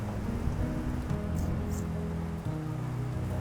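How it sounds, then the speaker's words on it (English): Steady rain falls over Bogota, a dense, even hiss of drops with a low rumble underneath, continuous and fairly close throughout with no voices. "and the rain begins to fall."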